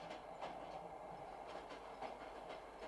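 A passenger train running on rails in a 1980 Sherlock Holmes film, a faint steady rumble with soft rhythmic clickety-clack beats recurring every half second or so.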